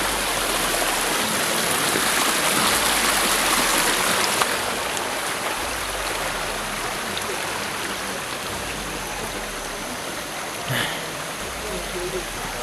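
Steady rushing and gurgling of a very rocky stream in a mountainous virgin forest, broad continuous water noise close by, with a brief sharper splash near the end.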